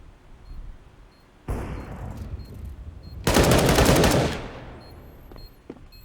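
Gunfire bursts in Counter-Strike: Global Offensive, a loud rattling volley midway followed by a second, louder and denser sustained burst, then trailing off into quieter background.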